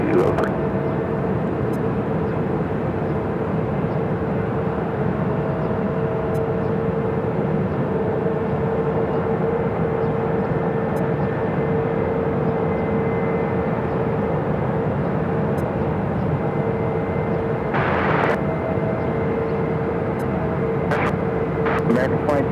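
Jet airliners work on runway 7 left at Phoenix airport, a continuous, moderately loud engine drone with a steady whine held throughout, joined by brief faint clicks and a short burst near the end.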